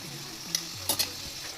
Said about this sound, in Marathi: आता याच्यामध्ये मी फणस ॲड करत आहे. फ्राय करून घ्यायचं आहे फणस.